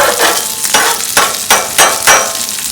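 Onions sizzling on a Blackstone flat-top griddle for patty melts, a steady loud broadband crackle broken by five evenly spaced scraping strokes of a spatula, close up, with no voices.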